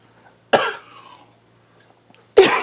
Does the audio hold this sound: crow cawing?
no